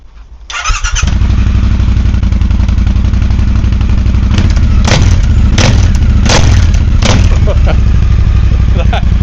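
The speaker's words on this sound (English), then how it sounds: "the full system is now in, but this is how it sounds with the baffles still in place." A Triumph T120 motorcycle with a Tec-Bike Dueller exhaust, baffles still in, starts up and settles into a loud, close, throbbing idle, with several sharp blips of the throttle and a voice speaking over it.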